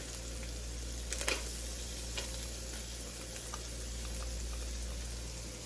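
Garlic frying in a pan for teriyaki chicken, a steady soft sizzle with a few brief clinks of a utensil, close and fairly quiet with no talking.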